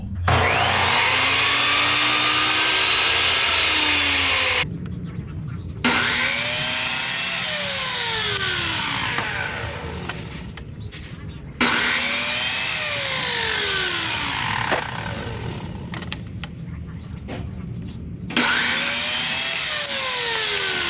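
A power saw with a stop block clamped to the miter gauge makes repeated cuts through short wooden feet pieces for a kennel cover. The blade roars loudly, then winds down in falling tones between cuts, with no talking.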